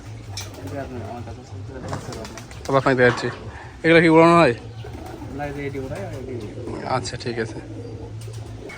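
Pigeons coo softly at a Giribaz pigeon farm, low rhythmic calls running under a man's speech, with brief louder bird bursts between his words.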